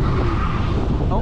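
A race car's tires spin and skid against a steady, loud engine roar, a continuous rushing drone close by with no pauses.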